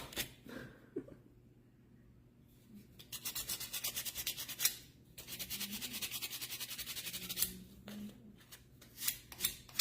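Small wood pieces sanded by hand for a distressed Christmas tree sign, a steady scratchy rubbing in repeated strokes at close range, with a few pauses between bursts and no talking.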